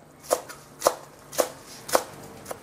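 A knife chops sawtooth coriander into chunks on a board, five crisp evenly spaced strikes about half a second apart, close and clear with no talk.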